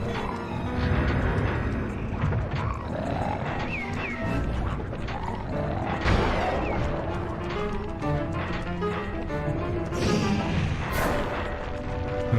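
Bombs exploding in the Sly 2 video game, repeated booms and crashes over a busy game soundscape with music and mechanical clatter, with heavier hits near the middle and a loud one toward the end.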